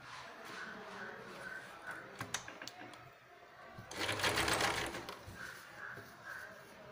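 A sewing machine stitches fabric for a cloth carry bag, quiet and close, with short stuttering runs of needle clatter and one longer, louder steady burst midway.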